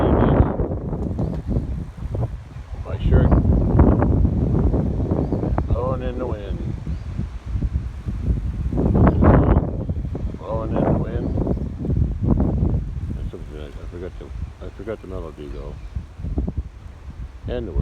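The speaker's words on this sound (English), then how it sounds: "Yeah, it's a windy today. Cool wind too." Gusty wind buffets the microphone in rising and falling rushes, with a person speaking over the blustery noise.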